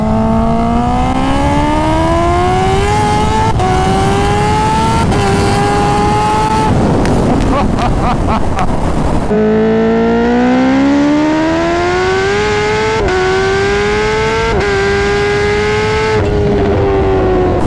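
A 300 whp Kawasaki Ninja H2 motorcycle screams loudly up through the revs under hard acceleration in second gear, the engine pitch climbing steadily, breaking briefly at a shift, then rising again close and loud throughout.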